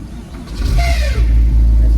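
A Porsche's starter motor cranks the engine, rising as a whirring whine before settling into a loud, close, low engine rumble that carries on to the end.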